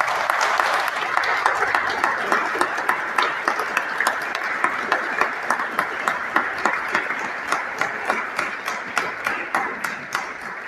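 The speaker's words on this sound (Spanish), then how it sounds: "Un aplauso a Guillermo Coronel" Audience applause at a Costa Rican art critics' award ceremony, honoring Guillermo Coronel: steady clapping from a crowd with sharp individual claps standing out, continuing throughout without speech over it.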